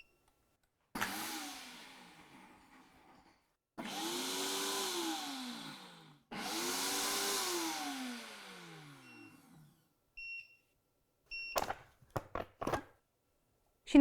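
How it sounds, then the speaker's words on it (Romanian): A blender on its ice-crushing setting runs in three loud motor bursts of about three seconds each, the whirring pitch dipping and rising within each pulse, followed by a few sharp clicks and knocks. "Și vom folosi funcția de zdrobire a gheții."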